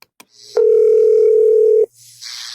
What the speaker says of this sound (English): change the voice message on the answering machine for their home phone